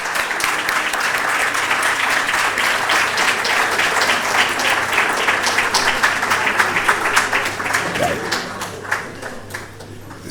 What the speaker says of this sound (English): Can you get a lot of applause?